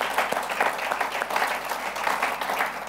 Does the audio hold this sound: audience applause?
yes